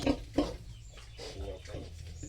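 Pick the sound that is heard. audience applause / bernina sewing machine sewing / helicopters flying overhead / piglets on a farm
piglets on a farm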